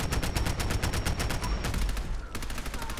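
A Sterling submachine gun in Fallout 4 fires rapid, evenly spaced automatic shots, loud and close, in a continuous stream with one brief break before the firing resumes.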